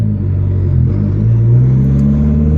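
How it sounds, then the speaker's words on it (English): A Dodge SRT4 pulls away from a standstill under firm throttle, its engine note a steady low rumble that rises smoothly in pitch as it accelerates, loud and close with no talking. "the more throttle you give it when you're taking off, the smoother it is"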